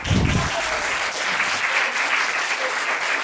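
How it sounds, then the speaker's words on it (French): A theatre audience at a comedy show in Vitrolles applauds, a dense, steady wash of clapping filling the room from start to finish, with a brief low thump at the very beginning. "Moi, personnellement, je ne veux plus d'applaudissements."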